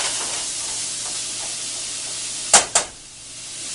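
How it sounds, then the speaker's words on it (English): Onion and bacon fry in a pan with a steady soft sizzle and hiss, broken by two sharp clanks near the end, as if a utensil hits the pan. "you can just put your onion in. And you're going to cook that until the onion is lightly brown"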